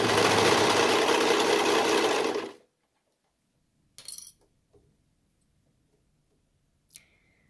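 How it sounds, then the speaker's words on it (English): A serger stitches a neckband onto a knit garment in a loud, steady whirring run of about two and a half seconds that stops abruptly, followed by a few faint clicks and handling taps. "I'm stretching with my right hand, and with my left hand, I'm making sure that that's feeding into the serger"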